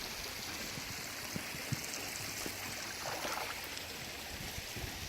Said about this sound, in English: And there, we've just put acid in.